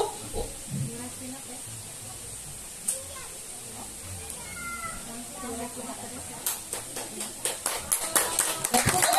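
Seminar audience applause: after a quieter stretch with some talking, hands start clapping and build into fast, loud, overlapping claps toward the end.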